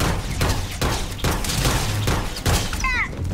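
Rapid bursts of gunfire in the sci-fi game Starfield, several loud shots in quick succession over a steady backdrop, with a short whooshing game effect near the end.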